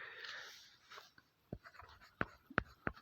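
Handwriting on a board or paper during a political science lesson: a few soft strokes and then several sharp, distinct taps and scratches close up in a quiet room.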